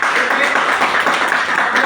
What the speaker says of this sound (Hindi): तो एक जोरदार ताली